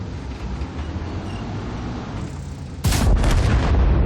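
A single loud World of Tanks cannon shot booms sharply near the end, breaking a steady low engine rumble that runs beforehand.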